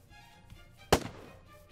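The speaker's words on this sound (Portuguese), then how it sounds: "Acho que eu tô entrando no meio do tiroteio aqui" A single sharp gunshot-like crack from a Minecraft battle royale match, loud and brief against a quiet game background.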